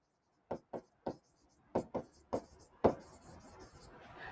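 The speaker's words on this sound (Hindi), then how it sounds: "यहीं पे कंटिन्यू करके मैं लिख रहा हूं" Quick scratchy strokes of writing on a board during a chemistry lesson, about seven distinct marks in an uneven rhythm, close and fairly quiet, followed by a brief longer scrape.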